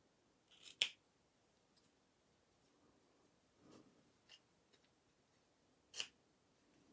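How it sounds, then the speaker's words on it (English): Scissors cut out a stamped Christmas card: a few sharp, quiet snips spaced several seconds apart over a faint room background. "And I'm going to be cutting out this."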